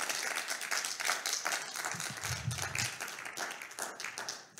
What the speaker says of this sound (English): Round of applause for Dr. David Edney.